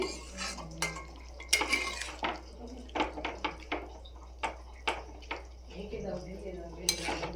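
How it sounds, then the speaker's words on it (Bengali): A spice masala for achaari prawns cooked down with a splash of water in a pan, with a spoon knocking and scraping in repeated strokes over a faint simmer, close by. A voice speaks intermittently underneath. "একটু জল, আর একটুখানি জল দিয়ে দেব, দিয়ে জিনিসটাকে ভালো করে নাড়াচাড়া করে"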